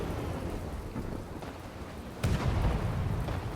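Main cannons of the Hawthorns and the Obelisk firing in From the Depths produce a continuous rumbling barrage, with one heavy boom near the end that lifts the loudness, and no speech.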